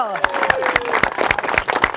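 A crowd at a sand sculpture contest applauds the participants, with regular sharp claps standing out over general noise and voices.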